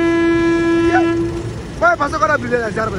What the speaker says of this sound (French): c'est le train qui dégage la fumée comme ça.